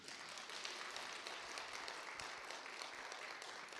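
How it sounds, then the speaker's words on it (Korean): Church revival audience clapping together in sustained applause, a thick wash of many hands from a crowd in a large room. "박수 한번 해줘."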